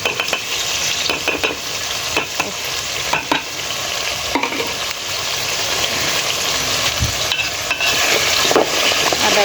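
Ginger paste fries in a pan for a quick home-style biryani, giving a steady close sizzle with repeated scraping stirs and light utensil knocks throughout, no voices.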